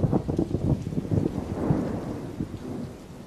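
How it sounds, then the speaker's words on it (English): Low rolling thunder from a desert electrical storm rumbles over steady rain, loud at first and gradually fading. "electrical storms roll across the desert, often shedding only drops of water."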